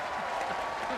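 Applause from a crowd in a Game of Thrones royal court scene, a dense, continuous patter of clapping heard briefly at moderate level behind faint voices.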